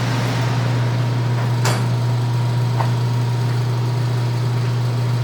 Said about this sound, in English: any noise you hear is the phase converter, the air conditioner, and then I use a little fan just to spread out, circulate the air for the air conditioner